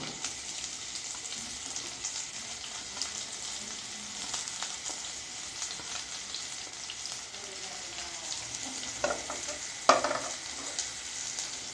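Onion frying in hot mustard oil, a steady close sizzle throughout with occasional stirring clatter and a couple of sharper pops near the end.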